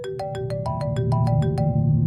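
Electronic phone ringtone plays a repeating melodic pattern of short bright tones, steady and fairly loud, with a low murmur of background noise beneath and no talk.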